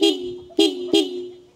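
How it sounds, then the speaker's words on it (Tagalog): A Hella aftermarket horn fitted to a Honda Click 125 scooter blasts three times, a long honk followed by two shorter ones, loud and close with no talking. "So napakalakas po ng busina nito. So, testingin natin. Sound check tayo ng busina."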